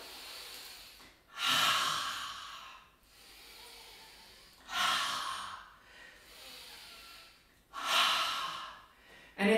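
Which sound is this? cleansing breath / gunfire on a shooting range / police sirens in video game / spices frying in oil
cleansing breath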